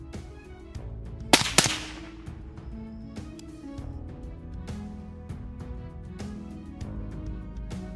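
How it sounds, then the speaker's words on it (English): A rifle shot at a wild boar on a farm cracks once, loud and sharp, then fades into a quieter stretch of scattered clicks and snaps, with no voices. "After a few seconds of countdown, the gunshot immediately rang out"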